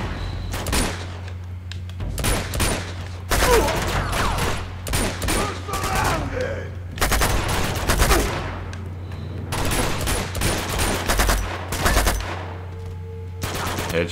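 Rapid bursts of automatic gunfire from the Uncharted 2 video game crackle in repeated clusters over a low background hum, with short gaps between volleys.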